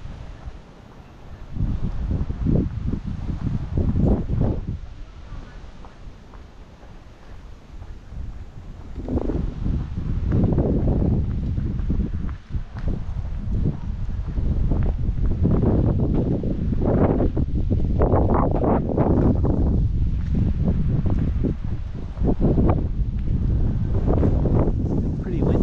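Strong wind buffets the microphone during an outdoor street walk, a loud, continuous low roar with gusts swelling and easing throughout and a brief lull early on.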